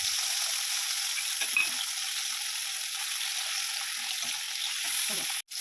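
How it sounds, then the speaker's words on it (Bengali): Prawns fry in mustard oil over a high gas flame, a steady close-up sizzle with occasional soft stirring and scraping touches, no voice over it. "সর্ষের তেল দিয়ে চিংড়ি মাছগুলোকে আমি একটু হালকা করে ভেজে নেব"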